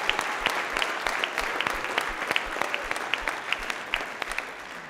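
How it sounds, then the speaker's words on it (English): A church congregation applauds the kids during a service, a steady round of clapping with individual claps standing out, moderately distant and continuing throughout without talk. "we might as well clap for them kids one more time"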